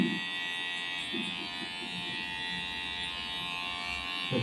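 An electric hair clipper hums steadily while cutting a fade haircut, a close, even buzz holding without pause and with no voices over it.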